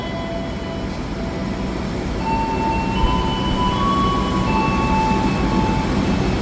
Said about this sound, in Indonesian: Dari jalur nomor 5 Peron Utara, kereta api Turangga tujuan akhir stasiun Bandung diberangkatkan.